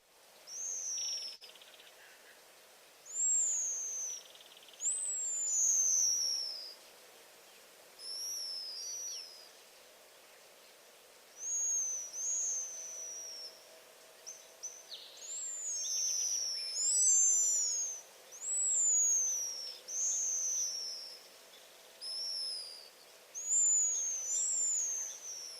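Pigeon guillemots give contagious alarm calls: thin, high, sliding whistles in repeated bursts, several birds overlapping at times, heard at moderate distance against a quiet background with no talk.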